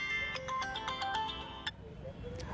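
A phone ringtone plays over a steady background, a repeating tonal melody for about a second and a half before it stops, with speech-like murmur underneath.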